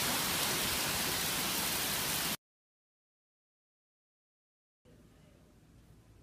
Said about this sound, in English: It's recording, or it's raining even harder today.